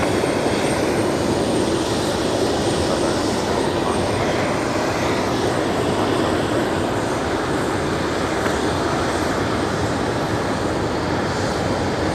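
Qantas flight 73, a jet airliner at Brisbane Airport at night, gives a loud, continuous engine roar that stays strong and even throughout, close by, with no voices over it.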